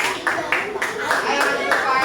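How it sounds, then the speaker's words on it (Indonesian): Schoolchildren clapping together in a classroom, a brisk run of overlapping claps lasting about two seconds, fairly close and steady, with voices mixed in. "Oke, tepuk tangan."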